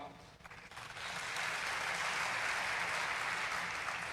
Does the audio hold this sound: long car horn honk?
no